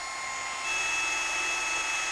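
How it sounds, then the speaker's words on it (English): A power drill bores through metal on a '57 Chevy, a steady high whine that grows louder and harsher partway through and then holds. "It's kind of drilling."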